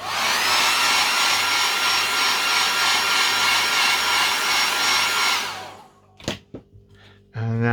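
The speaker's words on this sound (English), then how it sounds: "Quickly dry it with the hair dryer." A hair dryer blows with a steady whooshing hum for several seconds, drying a cleaned TV remote control, then shuts off, followed by a few sharp clicks and knocks.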